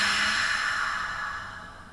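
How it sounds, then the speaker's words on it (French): A deep exhale through the mouth during a yin yang yoga session, a long breathy rush close to the listener that slowly fades over about two seconds. "Profonde expire par la bouche."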